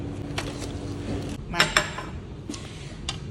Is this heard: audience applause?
no